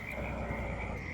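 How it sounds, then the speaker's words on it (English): Frogs croak in a dense, continuous chorus with a steady high trill, moderately faint, like a nighttime outdoor ambience, in the video game Farming Simulator 22. "Maybe it's the sound of the frogs or something"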